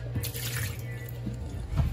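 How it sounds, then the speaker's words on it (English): Water is poured out of a Whirlpool refrigerator water filter during a filter change, a short splashy gush into a sink with dripping, close and fairly loud. "We pour the water out."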